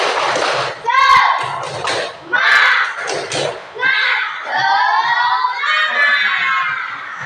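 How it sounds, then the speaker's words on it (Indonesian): A class performs the rhythmic 'tepuk semangat' clapping cheer, with children chanting loudly together between sharp, thudding bursts of claps in a patterned rhythm, their voices rising and falling across the whole stretch. "kita tepuk semangat terlebih dahulu. Tepuk semangat."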